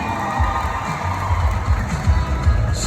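Crowd cheering and whooping at a beauty pageant, Miss Negros Oriental 2023, a steady roar of voices with low rumble and bursts of shouts through the whole stretch.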